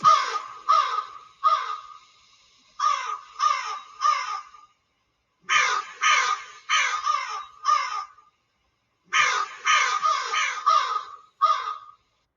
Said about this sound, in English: birds came from all directions to roost in the tree